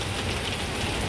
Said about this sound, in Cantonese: 想再行都唔得啦，太大雨。